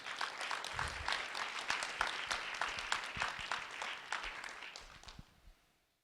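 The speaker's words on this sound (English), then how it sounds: "A round of applause for Mia Hughes." An audience applauds a first-grade student who has just led the Pledge of Allegiance at a community event. The steady, dense clapping continues for about five seconds and then fades out near the end.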